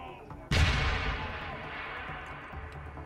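Grenade detonation in the video game Deus Ex: a single sudden, loud blast with a long, decaying rumbling tail, preceded by quieter ambient game noise.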